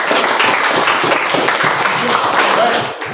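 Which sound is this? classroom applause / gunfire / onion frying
classroom applause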